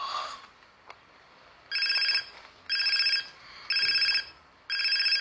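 A telephone rings in four evenly spaced, loud bursts after a quiet opening, with no talking over the rings.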